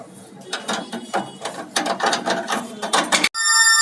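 Ratchet wrench clicking in quick bursts while fitting bolts on a Ford Endeavour clutch assembly, close and loud, with a steady whirring mechanical tone at the very end.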